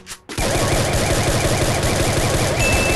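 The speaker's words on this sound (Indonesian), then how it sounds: "Wih, wah ada suara tembakan." Rapid bursts of automatic gunfire from a battle royale shooter game play loud and continuous, with dense repeated shots after a brief quiet start.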